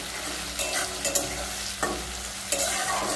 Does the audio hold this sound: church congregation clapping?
no